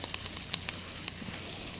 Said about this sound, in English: We're stir frying that up.